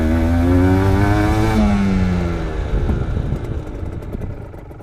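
A motorcycle engine during braking practice on a training course, loud and close, holding a strong high tone before its pitch drops and the engine note winds down as the bike slows.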